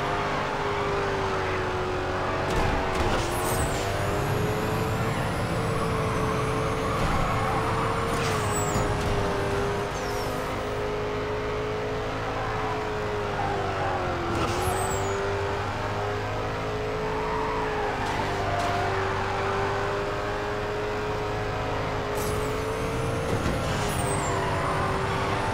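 A car drifting around a circuit in the mobile racing game Need for Speed No Limits: a steady, loud engine drone with gliding pitch shifts and tire hiss, continuous throughout with no talking.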